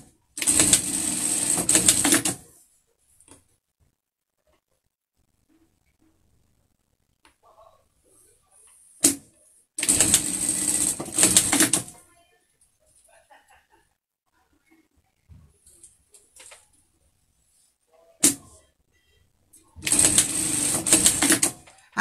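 A sewing machine closes the darts on the lining of a pet face mask, running in three loud bursts of about two seconds each, separated by quiet pauses with faint handling clicks.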